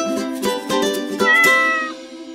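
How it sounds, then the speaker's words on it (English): Pet cat meows several times in quick succession, close and loud, with drawn-out tonal calls and no other sound. "this is my cat, Wessie."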